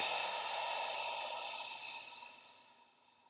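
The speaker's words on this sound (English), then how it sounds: "nice big breath into our belly" A slow, deep breath drawn in and let out during a guided relaxation exercise, a soft airy rush that holds steady and then fades toward the end, close and quiet with no talking.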